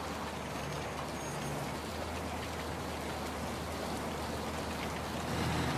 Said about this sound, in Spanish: Qué manera de llover.